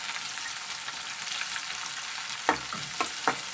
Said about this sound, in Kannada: ಈರುಳ್ಳಿ ಸ್ವಲ್ಪ ಬಾಡಿಸ್ಬೇಕು